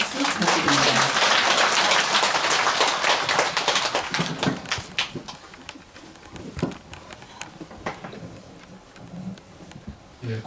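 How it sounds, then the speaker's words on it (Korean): A congregation at a Buddhist temple's monthly dharma service applauds the choir and pianist. Loud, full clapping for about four seconds thins into scattered, fading claps and taps. "다시 한번 힘찬 박수 부탁드립니다"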